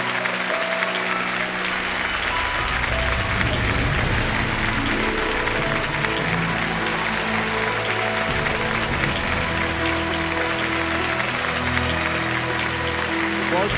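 Loud, sustained applause from a studio audience at the Kaun Banega Crorepati game show set fills the whole stretch, dense and steady, with music and faint voices underneath.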